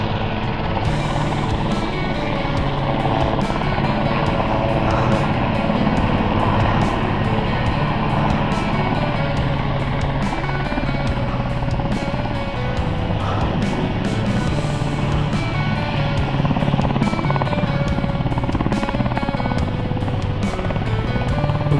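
Sheriff Air Rescue 5 helicopter landing on a road, its rotor chop and turbine roar loud and continuous throughout, with steady blade thumping close by and no talk.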